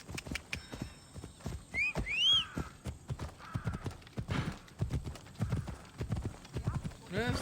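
A horse named Phobos gallops in Assassin's Creed Odyssey, its hooves beating a steady, close clip-clop with a brief whinny partway through and a few game sounds around it.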